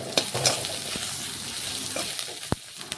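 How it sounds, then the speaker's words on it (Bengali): Onions stirred and frying in a pan with garlic-onion paste, green chili paste, turmeric, chili powder and salt for a potato fish curry, a steady close sizzle with soft scraping stirs and a few sharp clinks. "পেঁয়াজের সাথে মিশিয়ে পেঁয়াজটা একটু লাল লাল ভেজে নেব।"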